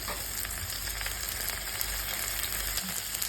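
Dried shrimp frying in a pan, a steady dense sizzle with a constant crackling hiss throughout, close and even, with no talk.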